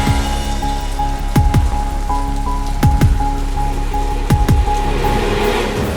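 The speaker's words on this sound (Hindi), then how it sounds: "इतनी बारिश हो रही है" Heavy rain pours steadily on a stalled car on a city street, a dense constant wash with occasional sharp drip impacts, loud and close.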